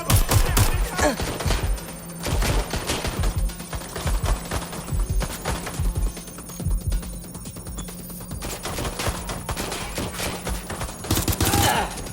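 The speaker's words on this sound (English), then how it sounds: "Shots fired. They're wounded." Gunfire in Watch Dogs Legion, loud sustained bursts of rapid shots rattling through nearly the whole stretch, with brief lulls, dense and close, with some voices in the game mix.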